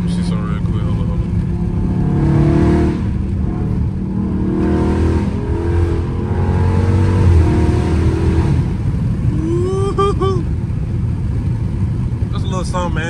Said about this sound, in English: Soft down, soft but loud downshift